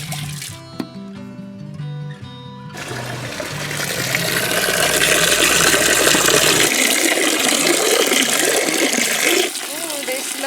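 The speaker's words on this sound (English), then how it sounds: "So let's start by washing the apples." Running tap water splashes steadily over apples being washed, starting after a few seconds of music and continuing loud and close to the end.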